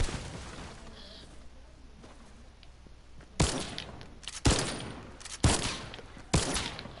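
Gunfire from a newly added gun in a video game: four sharp, loud shots spaced about a second apart, each with a short ringing tail, following several seconds of quiet background.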